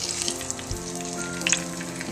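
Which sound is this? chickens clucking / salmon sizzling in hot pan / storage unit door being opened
salmon sizzling in hot pan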